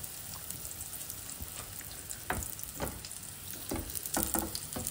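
Sweet potato tikkis sizzle in ghee on a hot griddle, a steady dense crackle and spitting hiss with scattered sharper pops, close and continuous.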